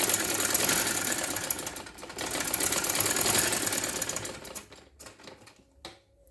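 A sewing machine stitches a trouser in a fast, rattling run of needle strokes that pauses briefly, starts again, then breaks into a few short bursts before stopping.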